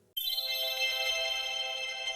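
A bright notification bell chime rings out alone, one clear sustained tone that starts abruptly and rings on steadily without fading much.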